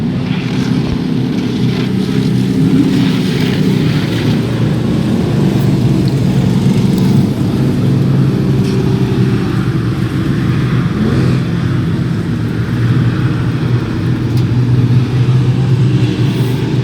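Racing pickup trucks in a Pro Truck Series event on an oval track, a loud continuous engine roar droning steadily from start to finish with no speech over it.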